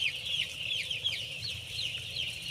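A dense flock of broiler chickens in a poultry house chirps and clucks continuously, many overlapping high peeps over a low steady hum of farm equipment.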